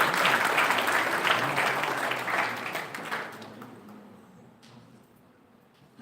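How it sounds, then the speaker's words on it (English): Audience applause at an international conference, a full burst of clapping from a crowded hall that thins out and dies away over several seconds, leaving a few scattered claps and faint room noise. "Big round of applause to you."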